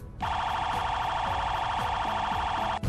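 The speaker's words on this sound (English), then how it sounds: "And third siren." A police car siren in the Truckplanet video game, a loud steady electronic warble that holds for nearly three seconds and then cuts off abruptly, sounding alone with faint low rumble beneath.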